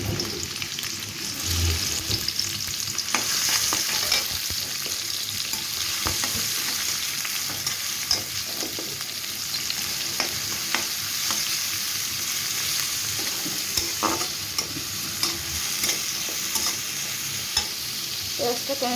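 Chopped onions frying in oil in a pan for a chicken keema and turnip curry, with a steady close sizzle broken by frequent scraping stirs throughout, and no voices.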